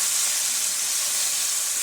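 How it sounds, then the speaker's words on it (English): Chicken sears in a hot pan with a steady, bright sizzle and hiss that runs unbroken and close, with no talking. "let's go ahead and flip them and sear them on this side"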